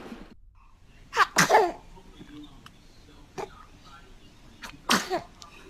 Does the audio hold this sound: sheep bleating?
no